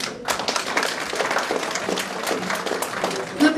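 An audience at a Miss Polonia 2012 regional beauty pageant in Jędrzejów applauds, a dense, steady wash of many hands clapping throughout, fairly loud and close, with scattered crowd noise.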